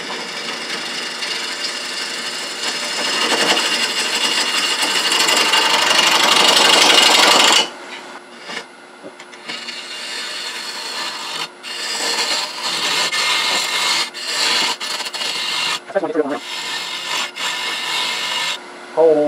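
A wood lathe turns a cherry bowl blank at about 700 rpm while a gouge trues up the face, making loud continuous scraping and rasping cuts, then a lower hum with intermittent bursts of cutting noise.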